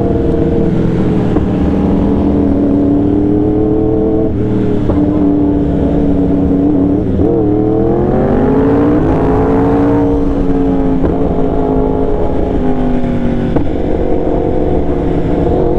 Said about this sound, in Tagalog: Lakas ng backfire ng motor.